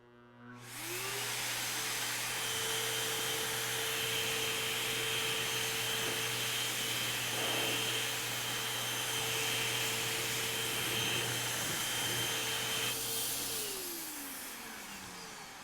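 A disinfectant sprayer machine runs steadily while cleaning a classroom, giving a continuous motor whine and hiss with a low hum that starts abruptly, holds even for about thirteen seconds, then winds down.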